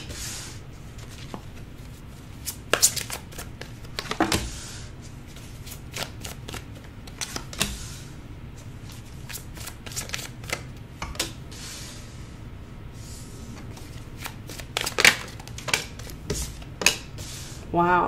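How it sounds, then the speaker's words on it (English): Tarot cards shuffled by hand in a quiet room, with soft riffling and repeated crisp flicks and slaps of card stock scattered through the stretch, some louder snaps standing out. "Let's pull some cards here from the tarot, see what additional messages come out for you"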